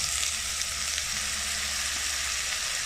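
Finely chopped curry leaves frying for a ridge gourd curry give a steady, close sizzle with no talk over it.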